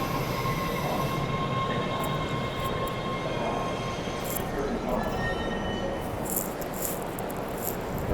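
A subway train bound for Ashmont rumbles and rattles steadily from inside the car. Faint voices are present beneath the noise.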